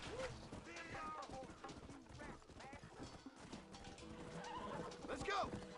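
Horses in the Western video game Red Dead Redemption whinny and neigh with clip-clopping hooves, loud and close, while characters talk over them.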